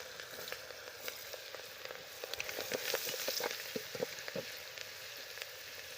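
Ginger, green chillies and onion fry in hot oil, giving a soft, continuous sizzle scattered with sharp crackles and pops that grow slightly busier midway, fairly close and without talk.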